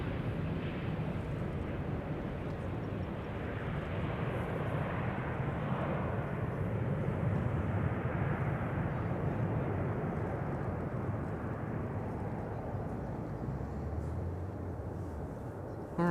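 A four-engine airliner approaching the runway at Amsterdam Schiphol, heard as a steady, broad, faint roar of jet engines that holds evenly for the whole stretch, with a low rumble underneath.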